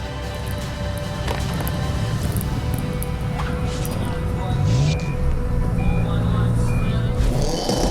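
Subaru all-wheel-drive rally cars launch off the line and round the first barrel in a racing battle, engines revving loudly and continuously under crowd and commentary noise, with a rising tone near the end.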